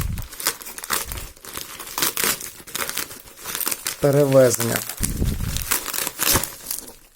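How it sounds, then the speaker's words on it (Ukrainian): Plastic packaging around a spinning fishing reel from an online order crinkles and tears as it is unpacked, loud close rustling bursts throughout, with someone speaking briefly in the middle. "Давайте її розпакуємо."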